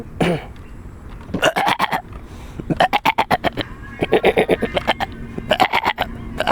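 A man imitates a male goat's bleat with a series of rapid, throaty, quavering bursts, repeated several times with short pauses between them.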